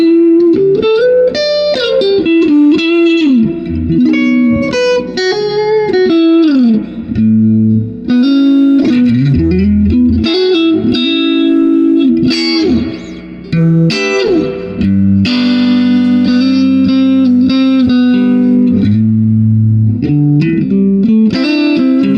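Electric guitar played through a vintage 1964 Fender Super Reverb amp with treble set at 6, loud sustained chords and melodic runs with a warm, reverberant tone, continuous and up front with no talking.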